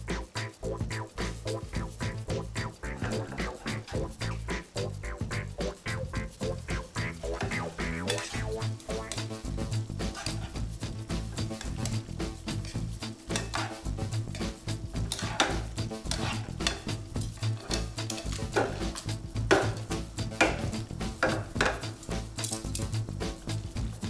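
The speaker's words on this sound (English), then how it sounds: "get the spaghetti straight to the sauce and stir it very well" Cooked spaghetti being stirred into tomato sauce in a pan, a continuous wet, sticky swishing and scraping with faint clinks from the utensil, steady and close with no voices throughout.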